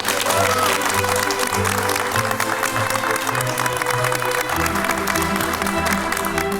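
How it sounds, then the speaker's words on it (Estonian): An audience at a young hairdressers' competition award ceremony applauds a new young champion, steady sustained clapping from a crowd with music playing underneath throughout. "Ja palun eriti suur aplaus uuele noorele meistrile"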